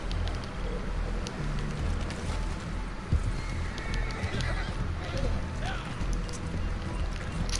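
Horse sounds in the video game Red Dead Online, with hooves and faint whinnies in the background under steady ambient noise and a person talking.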